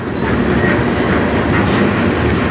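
CN freight train passing on the Strathroy Sub at dusk, loud continuous rumble and clickety-clack of wheels close by.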